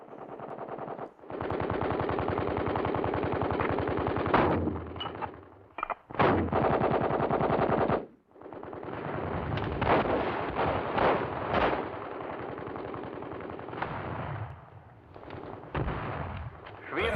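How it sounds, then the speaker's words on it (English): Heavy machine gun and mortar fire pour onto a breakthrough point as infantry push into a town in wartime combat, with loud sustained bursts of automatic fire broken by brief pauses and sharp blasts, close and continuous throughout. "Countless weapons fire on the breakthrough point."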